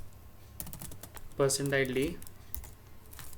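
Keys clack on a computer keyboard while code is typed, a close run of light taps under a short burst of speech.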